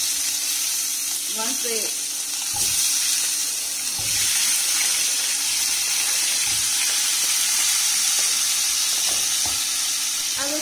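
Curry leaves crackle and sizzle in hot oil for a tomato coriander chutney, a bright steady frying hiss with a few clinks and knocks, and a voice speaks briefly.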